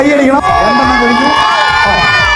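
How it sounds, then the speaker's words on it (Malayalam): A crowd at a bride's eating challenge in Kasargod cheering and shouting, with excited voices and whoops from adults and children rising over one another in a loud, continuous burst. "കൈയടിക്കണം."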